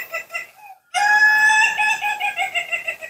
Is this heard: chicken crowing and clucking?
yes